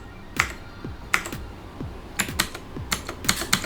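Keys clacking on a Daxa M71 PRO keyboard, a short run of separate, crisp strokes with small pauses between them, close up and alone with no talking.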